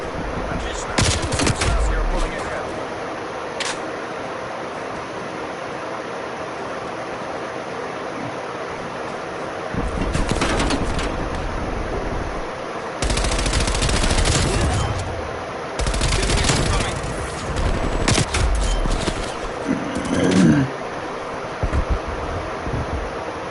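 Bursts of rapid turret gunfire in Call of Duty, loud and close, in several long stretches over a constant background roar.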